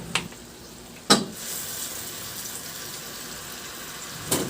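Spicy garlic tilapia sauce sizzles in a pan as water and liquid seasoning go in, a steady soft hiss broken by three brief sharp splashes or clinks, with no talking.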